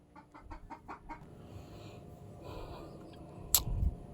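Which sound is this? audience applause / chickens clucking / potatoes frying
chickens clucking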